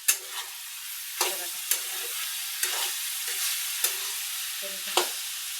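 Eggplant and potato stir-fry being stirred in a pan, a steady bright sizzle broken by about six sharp scraping strokes of the spatula, close and fairly loud, with no talk.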